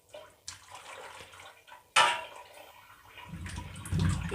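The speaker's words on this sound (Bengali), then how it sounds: "এই লোদ লোদটা কাটানোর জন্য অবশ্যই গরম জল দিয়ে ধুতে হবে।" Potatoes washed by hand in hot water in a kitchen, with splashing and sloshing that swells toward the end and a brief sharp knock near the start, close and moderately loud with no talking.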